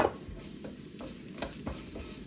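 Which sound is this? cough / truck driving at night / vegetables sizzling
vegetables sizzling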